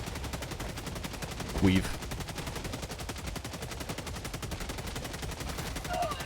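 A LAS-16 Sickle laser rifle fires in Helldivers 2 on a cold planet, giving a steady, rapid, unbroken stream of shots over a droning backdrop, with a short louder burst and a brief spoken word midway.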